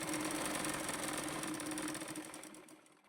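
Electric sewing machine stitching a blouse seam: a fast, steady mechanical whir with rapid rhythmic chatter, close and continuous, winding down and stopping at the end.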